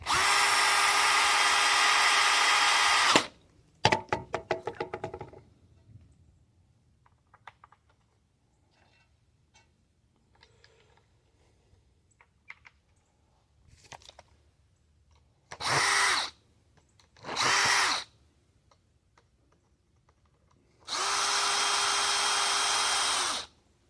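A DeWalt power drill runs in several loud sustained bursts while rifle conversion parts are reassembled, with a long whine at the start, two shorter runs in the middle and another long run at the end, separated by quiet clicks and handling noises.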